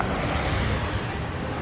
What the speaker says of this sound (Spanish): Se escucha el mar